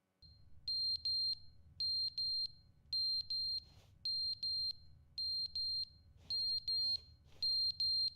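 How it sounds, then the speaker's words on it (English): Smoke alarm in The Stanley Parable: Ultra Deluxe giving short, loud paired high-pitched beeps in a steady repeating rhythm over a low background hum. "the fire alarm ran out of batteries. Or the batteries are getting low or something"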